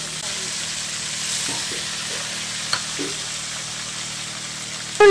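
Cumin paste with ground green chilli and ginger paste frying in a pan alongside cumin seeds and bay leaves: a steady moderate sizzle with a few faint taps and scrapes and a louder knock at the very end.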